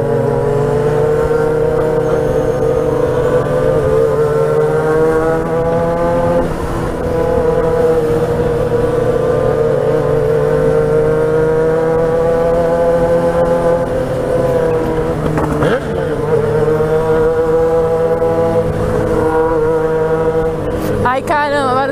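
A Yamaha XJ6 motorcycle engine roars loudly and close up for the whole stretch, its revs rising and falling in long sweeps with a few quick blips near the end.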